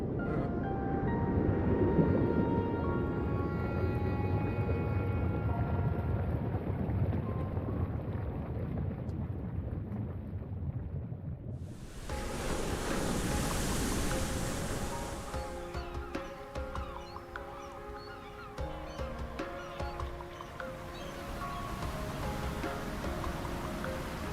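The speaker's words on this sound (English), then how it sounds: "Is this weather perfect or what? The brisk ocean breeze, the wide open sea" Steady rushing wind and surf-like noise from the open sea in the video game Ys X: Nordics, continuous and moderately loud, with faint game music tones shifting midway.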